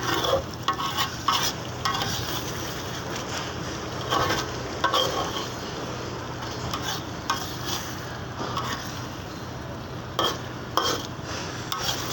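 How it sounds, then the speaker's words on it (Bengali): Potatoes and chicken sizzle steadily while being stir-fried in a pan, with a continuous frying hiss and repeated scraping stir strokes against the metal throughout. "এখানে এখন আলু দিলাম আলু দিয়ে এখানে কষাবো"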